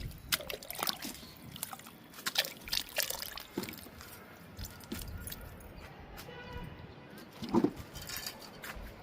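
Liquid fertilizer poured onto a lemon plant, heard as faint, irregular splashing and trickling bursts with brief drips between them, close by and fairly quiet.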